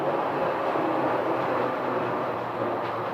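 The Sky Harbor SkyTrain rolls past a station beneath its roof with a steady rumbling whoosh, a broadband rail roar that holds even and fades slightly toward the end, with no voices.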